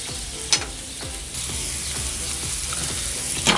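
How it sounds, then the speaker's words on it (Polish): Onion and leek sautéing in a pan, a soft continuous sizzle broken by repeated scraping strokes of a utensil, with a couple of sharper knocks, no voices. "Cebulkę sobie razem z porem teraz tylko zeszklimy, a ten czas, kiedy ona się tam podsmaża"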